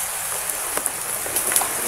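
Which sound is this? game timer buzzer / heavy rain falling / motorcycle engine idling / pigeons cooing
heavy rain falling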